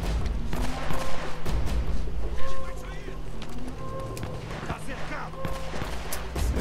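Gunfire from the video game Uncharted: Drake's Fortune, scattered shots and impacts over a busy game soundscape of wind and water, with someone talking over the action throughout.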